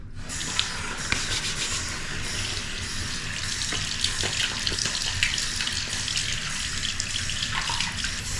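Warm water runs steadily from a sink tap while skin is wetted, a continuous close splashing hiss with faint rubbing and no talking.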